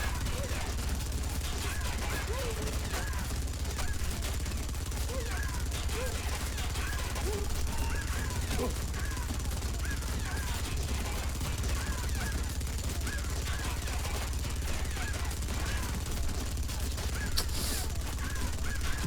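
Turret gunfire in the stealth shooter Splinter Cell: Conviction, White House level, a sustained stream of rapid shots layered with other busy game sounds, steady and fairly loud throughout.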